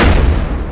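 An explosion in the video game Rust bursts out as a loud, dense, rumbling blast that fills the whole brief moment, with no talking over it.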